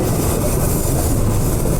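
A train rolls past during an outdoor classical music concert, a dense, steady, loud rumble filling the whole clip without any break or audible voices.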